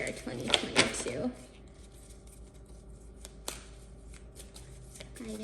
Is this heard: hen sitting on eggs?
no